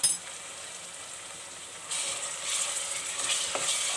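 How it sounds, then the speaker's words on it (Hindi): Chopped garlic added to lightly softened onions for matar keema, frying in a pan with a steady hiss that jumps louder partway through, close and alone apart from a few faint clinks. "लहसुन डाल के हल्का सा हमें फ्राई करेंगे।"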